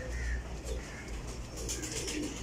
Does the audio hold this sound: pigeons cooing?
yes